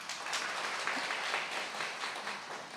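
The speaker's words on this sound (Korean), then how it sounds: "박수 한번 쳐주세요." Clapping from a church audience during an elders' workshop, a soft, even round of hands heard at a distance.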